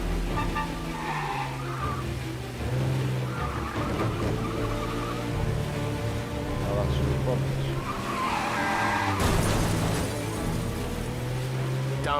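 Car from Mafia Definitive Edition driving hard with tires skidding and squealing through turns, engine droning steadily throughout, with game dialogue voices over the driving.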